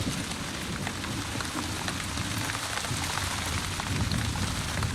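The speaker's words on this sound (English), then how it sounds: "Pouring rain and blowing a hurricane ever since." Pouring rain hisses as a dense, steady downpour patters on surfaces throughout, with no voices over it.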